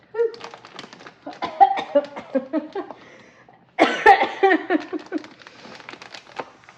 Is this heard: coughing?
yes